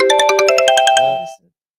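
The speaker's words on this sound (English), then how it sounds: "So anytime you hear this ringtone, can you hear it?" A phone ringtone plays loud and close as a quick, bright run of repeated electronic chime notes in a steady rhythm, then cuts off abruptly into silence.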